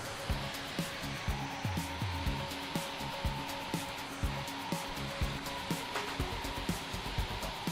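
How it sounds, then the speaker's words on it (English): Henry vacuum cleaner running on its high suction setting while clearing fine plaster dust and debris, a steady whooshing roar with rhythmic bumps and knocks as the nozzle moves across the floor. "Turn it on, we'll put it on super suck, and let's get rid of all the dust and all the bits of rubbish"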